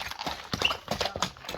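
Hooves of a tall black horse for sale clip-clop in a quick run of sharp, close strikes, several steps over a short stretch with no talking.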